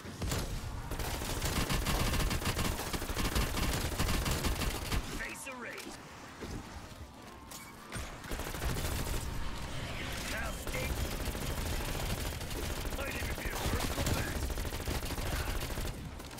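Gunfire in Call of Duty Cold War Zombies, rapid automatic bursts rattling almost continuously with a short lull in the middle, mixed with game effects and a player talking over it.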